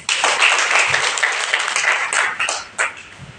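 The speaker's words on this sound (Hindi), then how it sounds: "एक बार तालियां।" An audience at an Independence Day ceremony at a tehsil office claps briefly, a scattered burst of hand claps that thins out and trails off into a few last isolated claps.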